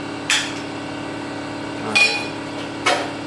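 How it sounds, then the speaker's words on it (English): A hammer strikes a bicycle frame held in a jig three times, with sharp metallic bangs spaced unevenly over a low steady workshop hum. "Sometimes I really have to hammer on that joker."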